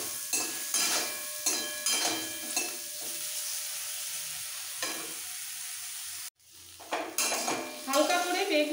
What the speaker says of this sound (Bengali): হালকা করে বেগুন ভাজা হয়ে গেছে